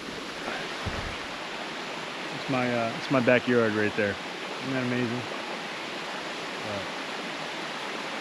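Creek water flows along the Appalachian Trail as a steady, broad rushing wash throughout. A person talks over it in the middle.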